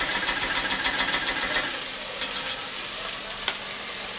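Tomato paste frying and being stirred into a braising mix for wine-braised short ribs, a steady close sizzle with a scraping stir and a faint click near the end, no talk.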